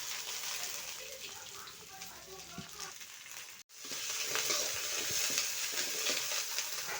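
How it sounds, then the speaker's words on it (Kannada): Onion and curry leaves sizzle and crackle continuously in a hot pan, with a stirring texture and a brief moment of near-silence partway through before the frying resumes at full strength. "ಇದನ್ನು ಚೆನ್ನಾಗಿ ಹುರ್ಕೊಳ್ಳೋಣ ನಾವು."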